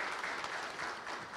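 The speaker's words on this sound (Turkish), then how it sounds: "Bir de güzel bir alkış rica ediyorum sizden." An audience at a property press launch in Bornova, İzmir claps in steady, dense applause that carries on without a break throughout.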